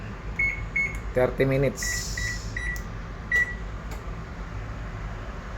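A kitchen oven's control panel, being set to bake Japanese sweet potatoes, gives a series of short, thin electronic beeps as buttons are pressed, with a brief burst of clicks and a quiet fan hum, while someone talks over it.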